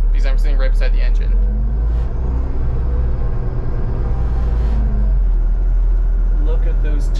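A loud, steady low engine rumble from a Grand River Transit city bus, heard right beside the engine, continuous throughout with muffled voices briefly over it at the start and end.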